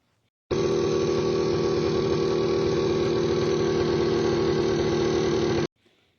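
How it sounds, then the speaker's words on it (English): A 1971 AMF Ski Daddler XX1400 factory race snowmobile engine runs at a steady, unchanging drone for about five seconds, loud and close, starting and stopping abruptly, with no voices. "So this thing runs. We'll put in a little clip that we got from the seller right here."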